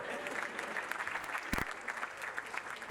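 An audience at a comedy performance by Papa Gigi applauds in a dense, continuous patter of clapping that holds for the full few seconds, with one sharper thump midway.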